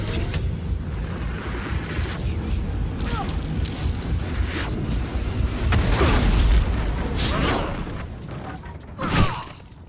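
Loud, dense rumbling explosion blasts in Baldur's Gate 3 fill the scene, with a heavier boom swelling midway and a sharp burst near the end, amid chaotic crackling game noise.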